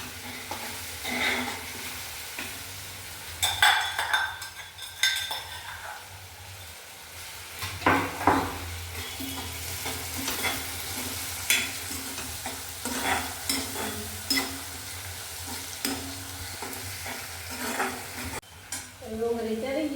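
Onion for pav bhaji sautéing in a pan while being stirred, steady sizzling broken by repeated scraping and clanking of a spoon against the pan, close and moderately loud, with occasional utensil knocks.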